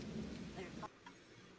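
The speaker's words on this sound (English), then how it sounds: "Starting to rain." Rain and thunder outdoors: a low rumble and rain hiss fill the first moments, then drop away suddenly to a quieter patter with a few faint tones.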